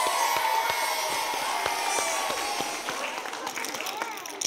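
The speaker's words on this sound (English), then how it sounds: "round of applause for Tristan." A round of applause and cheering from pupils at a school assembly, crowded clapping with scattered shouts, moderately quiet and steady throughout.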